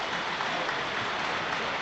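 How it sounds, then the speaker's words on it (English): Crowd applause fills a Sunderland football stadium as a player warms up, a steady, dense wash of clapping from many hands that runs unbroken and fairly loud throughout, with no voices standing out. "The applause, which is the loudest we've heard of anything in the last 10-15 minutes,"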